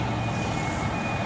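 A truck's reversing alarm sounds as a steady high tone while it backs up on a narrow road to make way for an oncoming 10-ton truck, over a continuous engine rumble.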